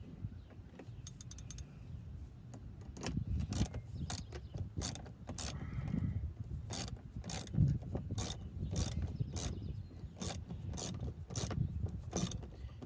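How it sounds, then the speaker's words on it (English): A 7mm socket wrench ratcheting while rear diffuser parts are removed from a Dodge Charger Scat Pack: a continuous run of rapid clicking ratchet strokes with some metallic handling noise, close and steady throughout, with no talking. "That's one 7mm socket wrench."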